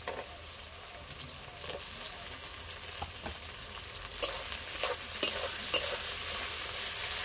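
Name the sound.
chopped onion and tomato frying with chicken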